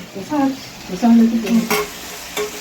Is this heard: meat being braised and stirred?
yes